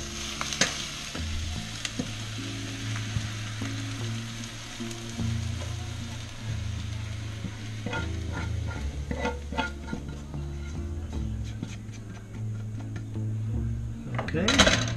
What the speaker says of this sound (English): I'm going to add a little bit of our garlic here.